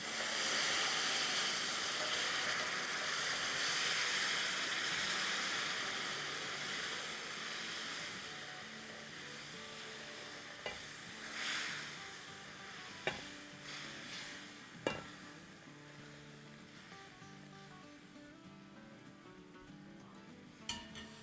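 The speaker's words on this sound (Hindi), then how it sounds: "अब बहुत क्रेजी की तरह नहीं हिलाएंगे, बस यूँ थोड़ा थोड़ा सा चम्मच चला देंगे" A spoon stirs sooji halwa in a hot pan over medium-low heat, giving a soft steady sizzle and hiss. Occasional light scrapes and clicks of the spoon against the pan come through, and no one speaks.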